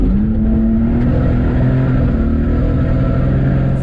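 A junkyard rally car on a cornfield dirt track accelerating hard down the back straight, engine roaring loud and close with a steady, rising drone and no voices.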